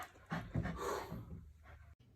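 A dog pants close by in quick, breathy rasps that come in a short burst before fading.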